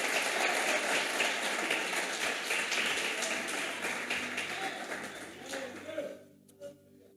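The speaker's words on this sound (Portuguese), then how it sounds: "Desocupe a sua mão e aplauda o Senhor Jesus com palmas" Church congregation applauding during a service, a dense wash of hand clapping that holds steady and then tapers off into near silence at the end.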